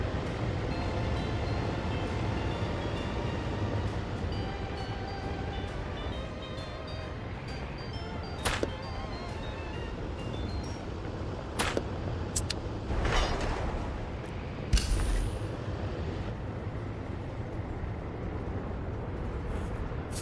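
A train runs along its track in a city-building game set in an Arabian desert biome, a steady low rumble that holds throughout with a few sharp clanks and hisses near the end.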